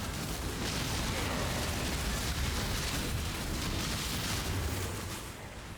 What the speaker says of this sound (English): It's just a clusterfuck of fucking explosions.